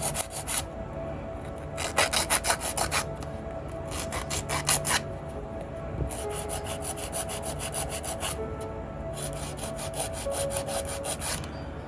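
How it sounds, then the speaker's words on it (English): A hard gel fingernail is filed with a nail file in repeated bursts of quick, close, rasping strokes, separated by short pauses, with no talking. "file the nail."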